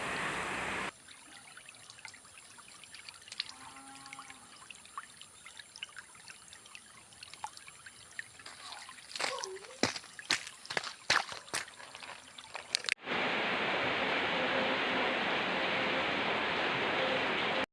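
Water trickling and splashing nearby, soft at first with sharp sloshes and knocks, then a louder steady rush of flowing water.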